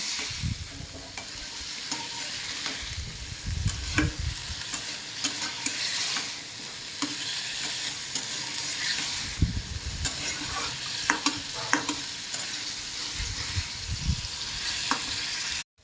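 A spice paste loosened with a little water being fried and stirred in a pan for a fish-head, Malabar spinach and potato dish, a continuous close sizzle punctuated by repeated scraping and knocking spatula strokes, no talking.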